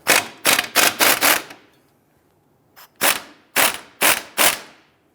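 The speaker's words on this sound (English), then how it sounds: "Using a 21mm socket, we just want to loosen the lower bolt here so we can pivot our knuckle." A ratchet wrench with a 21mm socket loosening the lower knuckle bolt on a 2011–2019 Ford Explorer, sounding as bursts of rapid loud clicks, one group of four, a faint tick, then three more bursts after a pause.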